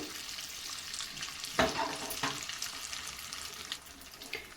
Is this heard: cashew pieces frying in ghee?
yes